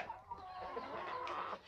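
Farm fowl calling near a turkey hen at a country smallholding, with clucking and crowing-like calls overlapping continuously at close range, no talk.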